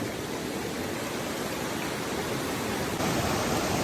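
High floodwater rushes past beside a bridge that has been washed away, a loud and steady broadband roar with no voices, growing slightly louder toward the end.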